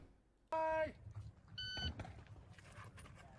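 One sharp electronic shot timer start beep sounds briefly at an action shooting match, followed by a second fainter tone and soft scuffling noises in a quiet setting.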